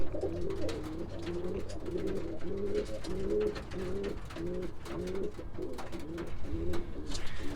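Several roller pigeons coo in steady, repeating low rolling calls, overlapping one another close by, with faint rustling and background noise throughout.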